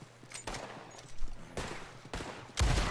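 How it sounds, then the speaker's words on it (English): Enemy gunfire aimed at the player in Red Dead Online, several sharp, loud shots spaced irregularly over a few seconds, the final one the heaviest, with no talking. "That's a dude trying to shoot me."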